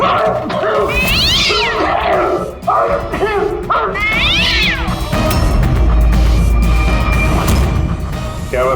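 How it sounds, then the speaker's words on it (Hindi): A cat meows repeatedly in loud, drawn-out wails with caterwauling rises and falls, several calls spread across the clip alone over a low background hum. "यहाँ ये बिल्ली भी मौजूद थी।"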